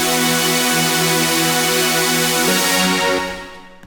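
The Xfer Serum software synthesizer plays bright, dense held chords that shift partway through, loud and full, then filters darker and fades at the end.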